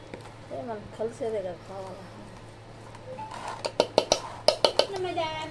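Fish pieces are mixed by hand with chili powder, salt and oil in a metal bowl, making a series of sharp clinks and scraping knocks after a stretch of talking.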